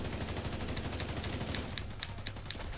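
Sustained automatic gunfire in The Division 2 video game, a dense continuous stream of shots with sharper bursts toward the end, loud and close with no talk.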